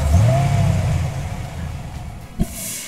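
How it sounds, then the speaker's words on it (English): A car engine rev rises with a whooshing intake roar and a thin whine, then settles into a steady drone, broken by one sharp click. "air intake recordings"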